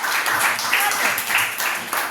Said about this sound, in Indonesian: Berikan tepuk tangan untuk kelompok 1.